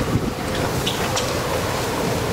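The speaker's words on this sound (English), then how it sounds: "The wind's blowing beside the apartment building." Strong winter blizzard wind roaring steadily beside an apartment building in Togiak, Alaska, a loud continuous buffeting rush with microphone wind noise.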